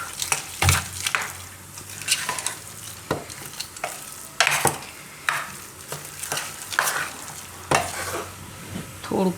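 Repeated stirring and scraping of ragi flour dhokla batter in a bowl, irregular wet clicks and swishes close up, with no talking.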